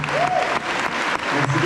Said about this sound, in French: un tonnerre d'applaudissements pour tous les maîtres qui présentent